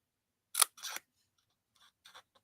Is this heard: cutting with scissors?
yes